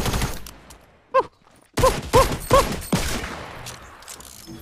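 Burst rifle fire in Fortnite Battle Royale: several sharp, loud bursts of shots spaced about half a second apart, the first standing alone before a quick run of three or four more, with no talk over them.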